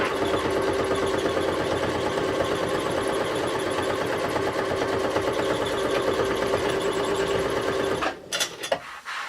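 A sewing machine stitches a zipper pouch shut, running as a fast, steady mechanical whir close by for several seconds before stopping abruptly, followed by a few clicks and handling noises.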